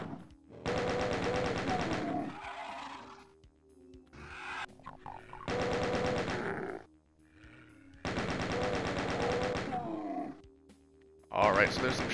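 Repeated long bursts of rapid chaingun fire in Doom 2, three sustained volleys separated by short gaps, with monster grunts and growls in between and a final sharp blast at the end.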